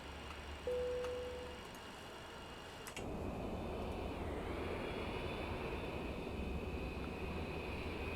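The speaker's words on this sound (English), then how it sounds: "there's a Southwest jet taxiing behind us" A Southwest jet taxis at Burbank airport in Microsoft Flight Simulator, heard as a faint, steady whining engine drone under cockpit hum that thickens into a broader rushing roar partway through. No one speaks.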